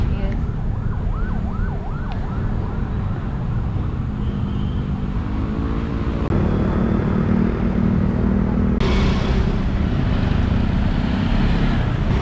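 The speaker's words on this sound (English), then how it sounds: "the crazy Manila traffic" Busy Manila street traffic with a constant engine rumble and road noise, a wailing emergency siren sweeping up and down early on, and voices talking faintly underneath.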